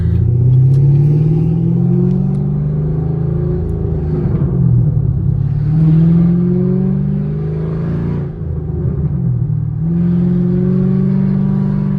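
A deep, loud straight-piped, catless 6.2-litre V8 Camaro SS exhaust rumbles up close, revving up and settling back down in repeated waves.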